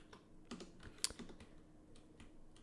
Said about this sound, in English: I'm going to be typing right there